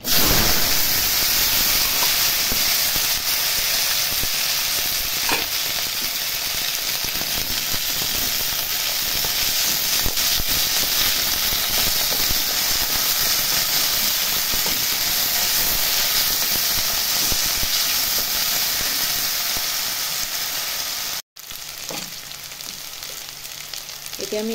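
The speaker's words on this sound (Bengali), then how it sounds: "কড়াইতে তেল আমার গরম হয়ে গেছে। এবারে আলুগুলো আমি সামান্য ভেজে নেব।" Potatoes frying in hot oil in a wok while ghugni is being made, a steady close sizzle and hiss that runs unbroken for most of the time, then drops briefly and softens near the end.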